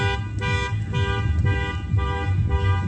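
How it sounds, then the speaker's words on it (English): A parked vehicle's alarm blares continuously with a steady, harmonic-rich horn tone that pulses in regular cycles, loud and close, with no talking. "They're setting off their own alarm."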